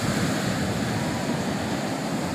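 Surf breaks on the shore at Tamban beach near Malang, a steady broadband wash of waves and wind roaring continuously and fairly loud with no distinct individual breakers.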